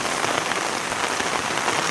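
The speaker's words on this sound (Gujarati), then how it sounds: "જુઓ વરસાદ કેવો પડે, જેમ કે ચોમાસું પડે ને એ રીતના વરસાદ ગાઈસ પડે છે." Heavy monsoon-like rain pours steadily onto a flat rooftop terrace, a dense, loud, continuous hiss with no pauses and no voices.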